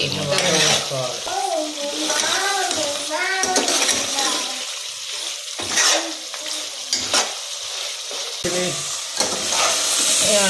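Water poured into a sizzling mutton curry in a pan, with a bright continuous hiss and clattering stirring, while people talk over it close by.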